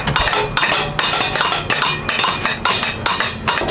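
Metal hammers strike bronze cymbals in the hand-hammering room of the Sabian cymbal factory, a loud, steady series of ringing metallic blows repeating about twice a second, close and continuous.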